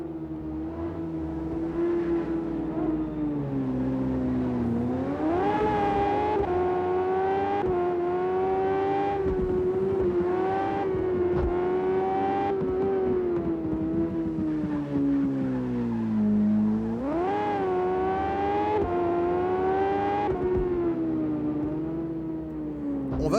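Racing motorcycles in the video game SBK X give a continuous high engine whine that rises and falls through repeated gear shifts and throttle changes, loud and unbroken for the whole stretch.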